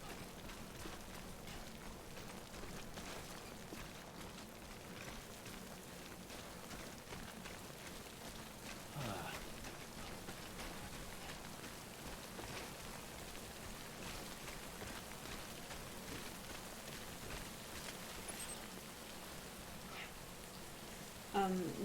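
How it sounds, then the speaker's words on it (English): Steady rain pours down in the video game Death Stranding, a dense even hiss of falling drops continuing throughout at moderate level, with a faint tonal hum beneath and a brief sharper sound near the end. "Oh, it's starting to rain."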